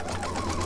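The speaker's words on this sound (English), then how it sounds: "I'm going to sew this on and just use my 1/4 inch seam" A sewing machine stitching a quarter-inch seam on a scrappy log cabin quilt block, a close, steady whirring run with no pauses.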